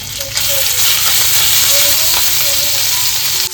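Mustard seeds, cumin and ginger-garlic paste sizzle and crackle steadily in hot oil in a home kitchen pan, a close, continuous frying hiss with small pops.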